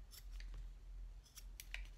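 Several quick, crisp scissor snips trimming the corners of cork fabric, close and quiet, come in a loose irregular cluster.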